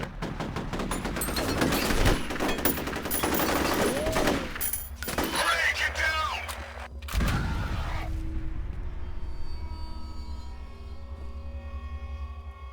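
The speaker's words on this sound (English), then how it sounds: "Are they shooting at each other?" Sustained automatic gunfire exchange in the shooter game F.E.A.R., loud dense bursts of rapid shots with booms for about eight seconds, then cutting to a quieter humming ambience.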